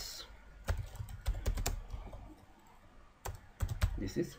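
Someone types an HTML heading tag on a computer keyboard, with quick clusters of close key clicks separated by a pause and a low murmur underneath.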